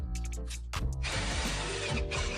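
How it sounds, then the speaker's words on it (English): A power drill whirs in short bursts, then bites into wood with a steady grinding buzz, close and fairly loud. "I then drilled a piece of wood through the piece of metal that I made a hole in earlier"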